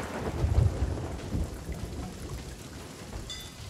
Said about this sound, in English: It's a good thing it's raining.